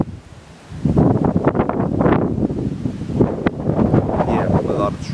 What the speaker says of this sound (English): As you can tell, a lot of wind, a lot of wind, a lot of wind.